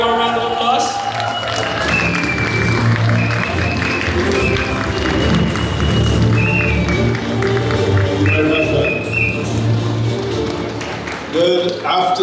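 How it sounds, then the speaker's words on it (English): A large audience applauds and cheers continuously as a speaker is welcomed onto a stage, the clapping sustained and dense throughout with voices mixed into the crowd noise. "Can we give him a big, big warm round of applause?"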